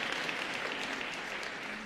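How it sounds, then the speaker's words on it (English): Audience at South Africa's National Dialogue opening giving a round of applause, a dense, even roar of many hands clapping at moderate level throughout, with no voices over it. "let's give them a round of applause for having done all this work"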